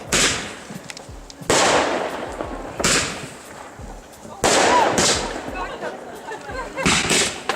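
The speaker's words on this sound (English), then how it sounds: "Fireworks time." Fireworks go off outdoors in a series of loud, sharp bursts and crackling explosions that come in waves over several seconds, with excited voices shouting in between.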